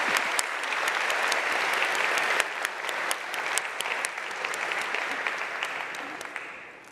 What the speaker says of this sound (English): please join with me and have a round of applause to thank all the organizing committees